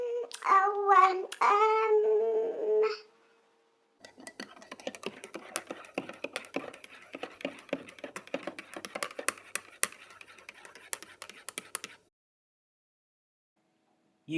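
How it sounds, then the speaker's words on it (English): A spoon stirs in a cup, giving a run of quick, irregular light clinks and taps for several seconds after a short burst of voice, then silence. "You heard someone stirring a spoon in a cup."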